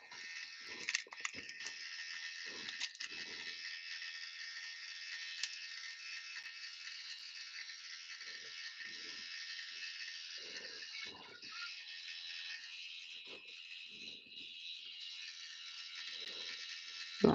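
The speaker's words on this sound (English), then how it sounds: "And now we're going to turn on our bead spinner." A bead spinner runs steadily during waist-bead making, giving a continuous mechanical rattling whir with a ratchety clicking texture, close and fairly loud, while occasional soft low knocks and handling thumps sit beneath it.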